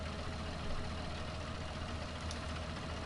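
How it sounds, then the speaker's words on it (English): A tractor engine idles in a farming video game, giving a steady, full low rumble that holds at one even level for the whole stretch, with no talking over it. "Yeah, that's a nice tractor."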